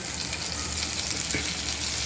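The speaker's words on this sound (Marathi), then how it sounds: "इथे फिश पण फ्राय होत आहे" Fish frying in a pan for a Karwar-style GSB fish thali, a steady close sizzle of hot oil holding level throughout, with no talking.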